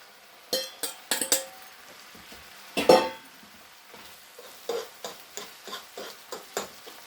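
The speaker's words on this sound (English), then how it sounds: "And I'm going to throw my shrimp in there now." Shrimp going into a hot pan of reduced seafood sauce over high heat: a run of sharp clattering taps and utensil knocks, one louder scrape, over a faint sizzle.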